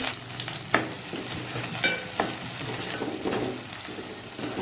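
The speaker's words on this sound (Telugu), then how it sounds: "ఆనియన్ పచ్చిమిర్చి బ్రౌన్ కలర్ వరకు వేయింపాలి" Onion and green chili frying in hot oil with cumin and mustard seeds, a steady crackling sizzle punctuated by a few sharp clinks and scrapes of a spoon stirring the pan, close and continuous with no voices.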